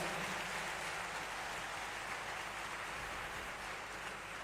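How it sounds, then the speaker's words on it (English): An auditorium audience at an IIT Madras event applauds to welcome Union Minister Dr. S. Jaishankar, a soft, even wash of clapping from many hands that stays constant from start to finish without speech. "Please join me with a great round of applause to invite our Honorable Dr. Jaishankar, Ministry of External Affairs."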